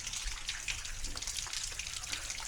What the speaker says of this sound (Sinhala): වතුර වැටෙනවා